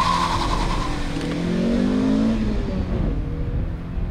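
A car engine revs hard and climbs in pitch, drops briefly at a gear change, then pulls up again with a smoother, steady roar.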